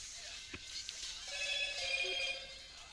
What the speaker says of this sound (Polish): bo to było powiadomienie